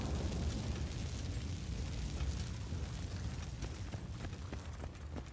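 A weapons depot explodes in the Battlefield: Bad Company video game, a dense, sustained roar of rumbling blast and debris that holds steady throughout, with scattered crackles and pops near the end.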